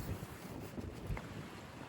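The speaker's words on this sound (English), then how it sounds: "Should have had on a jacket because it's real windy," Strong outdoor wind buffeting the microphone, a steady loud rumbling roar with gusty low thumps throughout and no voice.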